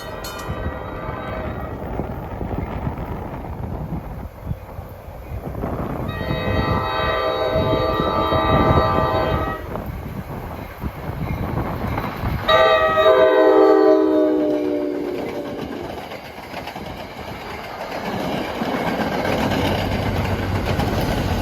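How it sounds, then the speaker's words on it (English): A New Jersey commuter train, number 72 from Port Jervis to Hoboken, approaches with long, loud blasts of its horn over the building rumble and clatter of the passing cars, fading out toward the end. "Approaching at 9 o'clock is train 72 from Port Jervis to Hoboken."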